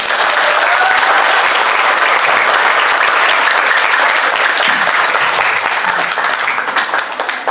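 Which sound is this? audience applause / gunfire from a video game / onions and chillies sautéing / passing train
audience applause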